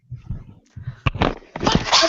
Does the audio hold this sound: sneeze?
yes